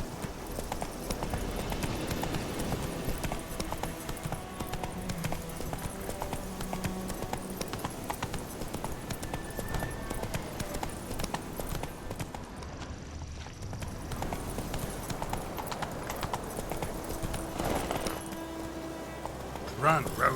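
Roach the horse gallops in The Witcher 3 video game, steady hoofbeats clip-clopping continuously alongside game sounds and a voice speaking over the action.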